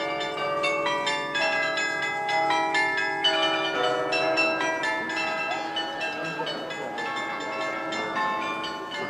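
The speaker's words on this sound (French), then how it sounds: "Mardi, le carillon du beffroi égrène ses dernières notes," Belfry carillon bells ringing out a melodic run of notes at a 1979 town festival in Mons, Belgium, a steady stream of overlapping bright tones, fairly loud and reverberant with a faint crowd murmur beneath.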